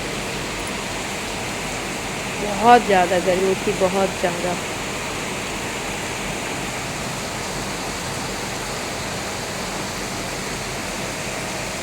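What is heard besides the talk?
heavy rain at night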